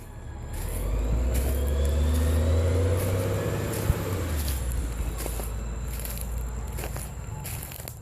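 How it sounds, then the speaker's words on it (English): A bus idles and rumbles near a bus depot, a steady loud low engine drone close by with a brief hiss and faint higher clatter over it. "And the noise you hear behind me is a bus, since we're right near the bus depot."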